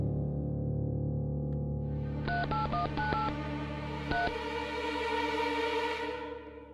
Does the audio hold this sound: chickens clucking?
no